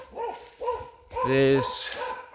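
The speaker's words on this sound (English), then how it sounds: "a dog barking, yes, of course" A dog barks in the background near a backyard worm farm, a few short barks mixed with someone talking over them.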